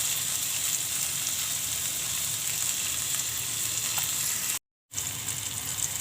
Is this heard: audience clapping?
no